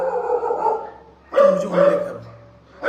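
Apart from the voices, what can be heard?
dog barking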